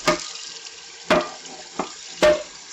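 Water from a kitchen faucet splashes in a sink as a burnt pot is rinsed, with four close, sharp gushes and spatters in an uneven rhythm over a steady hiss of running water.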